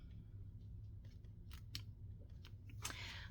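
Scissors snip paper for an autumn recipe junk journal, with a few soft, close cuts and a crisp longer slice near the end, heard alone at low volume.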